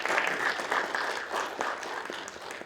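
Sustained audience applause fills a hall after a lecture at an economic forum, dense and steady clapping from many hands with no voices standing out.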